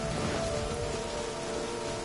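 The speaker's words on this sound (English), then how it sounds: "I love listening to the rain from the courtyard" Steady rain falls over a courtyard in Genshin Impact, a dense, even hiss that stays constant and close with no pauses, alongside a faint sustained tonal hum.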